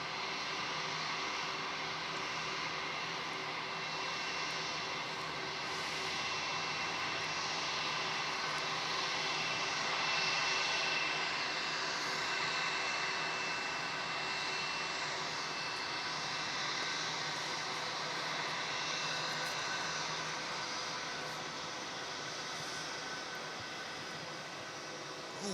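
Aircraft landing at Melbourne Airport at night, with large jets such as A380, A350 and B787 types arriving, heard as a steady, loud engine roar that holds evenly throughout with no speech.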